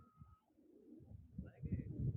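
Low, soft pigeon cooing murmurs throughout, building louder toward the end, with a couple of brief higher chirps partway through.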